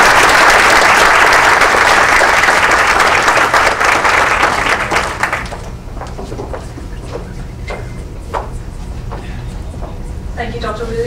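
An academic summit audience welcoming a speaker with loud, dense applause for about five seconds that then thins into scattered claps and shuffling, with voices and a person speaking near the end.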